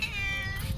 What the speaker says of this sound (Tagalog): Ang alaga kong meow meow, mga meow meow.